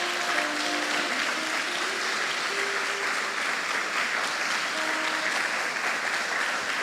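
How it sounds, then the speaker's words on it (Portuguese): A church congregation applauds in a steady, loud, continuous wash of clapping that lasts throughout, with faint tonal music underneath and no clear speech. "Dá uma salva de palmas para Jesus."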